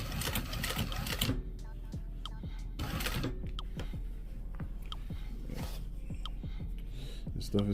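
An Atlas sewing machine stitches carpet for a classic vehicle in close, loud bursts of rapid mechanical clatter, stopping and starting between runs, with faint handling noise in the gaps.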